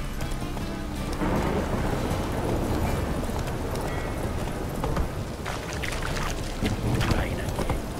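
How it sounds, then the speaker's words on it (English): Heavy rain pours in The Witcher 3, a dense, continuous roar of rainfall with low rolling thunder underneath, loud and unbroken from start to finish. "Rain"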